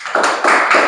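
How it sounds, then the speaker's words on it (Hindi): A class of students applauds a classmate, a dense burst of clapping that rises in three quick swells over one second, close and fairly loud with no talking. "ताली बजा दीजिए इनके लिए"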